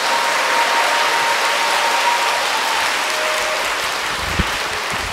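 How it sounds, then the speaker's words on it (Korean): Church lecture audience applauding and cheering a visiting Catholic speaker, a dense, steady wash of clapping that fills the hall without pause, with a faint whistle-like tone early on. "이렇게 강의하러 다니면서 이렇게 열렬한 환호를 받은 게 얼마만인지 모르겠습니다."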